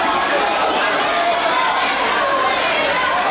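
A wrestling event crowd roars and chatters steadily as they push a wrestler back toward the cage, a loud, dense wall of voices with no breaks.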